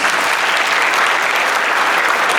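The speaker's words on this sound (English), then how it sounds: "Hats off, big round of applause to both the teams." An audience at a juniors debate competition claps loudly and steadily for both debate teams, a dense continuous round of applause with no talk over it.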